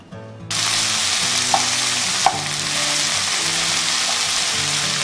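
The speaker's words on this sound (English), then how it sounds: "now I'm going to saute them till it's golden brown" Onions sautéing in a very hot pan: a sudden burst of loud, steady sizzling that carries on evenly, punctuated by two brief utensil clicks.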